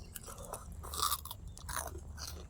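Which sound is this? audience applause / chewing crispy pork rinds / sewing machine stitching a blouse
chewing crispy pork rinds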